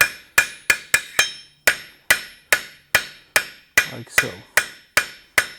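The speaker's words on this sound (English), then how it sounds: "we're using light hammer strikes and fast" A light hammer strikes hot steel while forging a blacksmith's tweezers, about fifteen sharp ringing blows in a quick, slightly uneven rhythm, each decaying briefly, close and loud, with a short spoken remark partway through.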